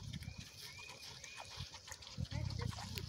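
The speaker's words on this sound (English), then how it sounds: "Pigs in Maryland." Pigs in a good-sized pen on a Maryland farm, fed barley fodder, giving short grunts and snuffling oinks close by amid rustling and shuffling, with a burst of louder grunting near the end.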